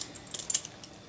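The gold chain and metal clasp hook of a real leather bag are handled, giving a quick run of light metallic jingles and clinks close by, then a single faint tap.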